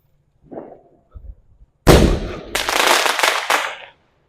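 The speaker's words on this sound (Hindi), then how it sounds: "के साथ में हमारा लास्ट पटाखा" A sky shot firecracker set off outdoors during a Karwa Chauth festival night, with faint soft voices at first and then a loud close blast followed by a crackling, roaring burst of bangs lasting about two seconds before it cuts off.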